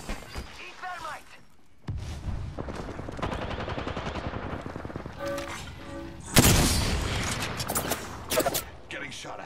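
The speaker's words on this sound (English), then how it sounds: "Getting shot at." Bursts of automatic gunfire from Apex Legends crackle close and loud, with a heavy blast near the end, while a player talks over the shooting.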